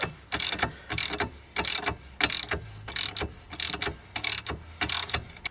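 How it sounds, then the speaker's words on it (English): A hand ratchet tightens the longer control arm bolt on a car's suspension while air lift bags are installed, giving bursts of rapid clicking strokes in a steady back-and-forth rhythm, close and moderately loud, with no talking. "So this is the longer of the two bolts. And now I'm tightening this up."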